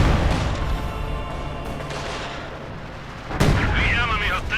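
An artillery barrage in Company of Heroes 2, heavy booming impacts rolling under a steady battle rumble, with a sharp loud blast near the end, as a commentator speaks over it.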